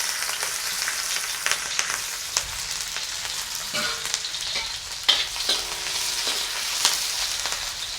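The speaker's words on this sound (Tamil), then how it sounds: "இப்போ எங்களுக்கு எண்ணெய் சூடாகிட்டு நாங்கள் வெங்காயத்தை போடுவோம்" Onions fry in hot coconut oil with a steady, moderately loud sizzle and crackle, broken by occasional stirring clicks and scrapes.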